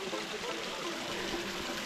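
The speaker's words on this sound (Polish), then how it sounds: "Fajny wodospadzik, nie?" Small waterfall in wooded terrain, giving a steady broad rush and splash of falling water, close and fairly even throughout the short stretch.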